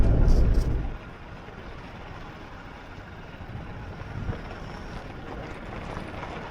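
A car drives along a road through the Namib desert, a loud gust of wind buffeting the microphone at the start before settling into a steady, moderate engine and road rumble with wind noise.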